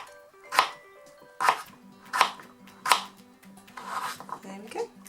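A knife chops a mushroom into thin slices on a board, giving four sharp, evenly spaced cuts followed by a quicker burst of lighter chopping.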